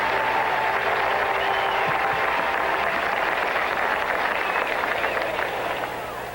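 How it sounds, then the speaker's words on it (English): Stadium crowd applause at Yankees Old Timers' Day in July 1979, a loud, dense roar of clapping echoing across the ballpark and carrying steadily before easing slightly at the end. "let's have a very warm round of applause to a great guy, a great announcer, for a great job, Frank Messer"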